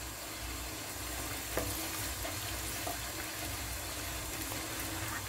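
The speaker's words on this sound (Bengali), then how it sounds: "এখন এই পেঁয়াজটা আমি একটু বাদামি রং করে ভেজে নেব" Onion frying in a pan toward browning makes a soft, continuous sizzle with a couple of faint taps, quiet and steady.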